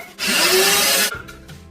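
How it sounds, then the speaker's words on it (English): Hot Cheetos grinding in a blender for mozzarella sticks, a loud dense whirring roar lasting about a second before cutting off abruptly, leaving faint rattling afterward. "The Hot Cheetos into the blender."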